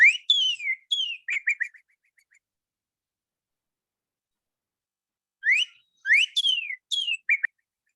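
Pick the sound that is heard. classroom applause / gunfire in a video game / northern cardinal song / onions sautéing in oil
northern cardinal song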